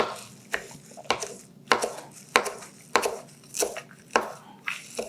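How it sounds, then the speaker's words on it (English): A knife chops washed fresh herbs on a cutting board in about eight crisp, evenly spaced strokes, each a sharp close thud with a short scraping tail, and no one speaks. "I'm just going to chop up some of my already washed herbs"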